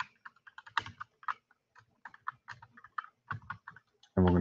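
Quick, irregular clicks of a computer keyboard being typed on close by, in short bursts with small pauses, ending in a louder thump.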